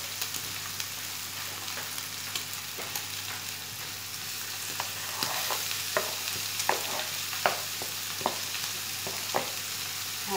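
Chicken frying in a pan as onion is added, a steady close sizzle with scattered stirring scrapes and clicks throughout, no talking.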